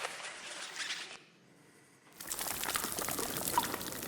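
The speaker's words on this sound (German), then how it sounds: "Und jetzt bitte ein Korallenriff, was lebt." Underwater recording of a living coral reef: a dense, fizzing crackle like many tiny pops, which drops away briefly in the middle before returning.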